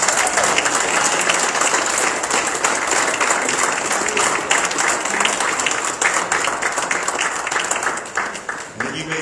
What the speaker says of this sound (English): Give the Lord one more round of applause.